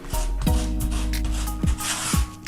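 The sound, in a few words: grout being forced into tile joints on sample board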